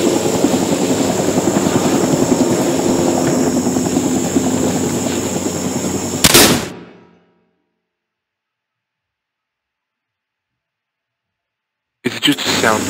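Huey helicopter rotor and engine noise in the Vietnam War video game Rising Storm 2: Vietnam, a loud steady drone for about six seconds that cuts abruptly to silence before resuming briefly at the end.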